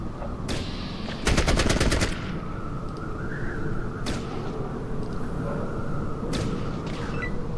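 A single gunshot from the Fallout Tactics video game cracks out sharply over a steady game background, with a dense rapid burst of fire and a few other sharp reports around it.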